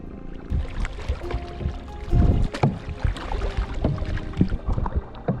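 A kayak is paddled on calm water in Khao Sok National Park, Thailand, with soft splashes and drips from the paddle strokes, close by, plus faint wind and a knock against the hull.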